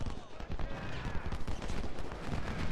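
Musket volleys crackle back and forth in Ultimate General: Civil War at Gettysburg, dense overlapping gunfire popping continuously at moderate distance, faintly mixed with battle noise.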